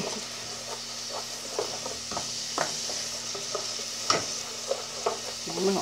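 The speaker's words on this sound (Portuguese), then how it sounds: "Vamos lá, dá uma dourada aqui nessa cebola" Onion browns and fries in a pan for chicken stroganoff, a steady soft sizzle with occasional stirring scrapes and clinks, close and continuous.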